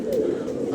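Pigeons cooing as they come down to land, a brief, steady low murmur of several birds close by.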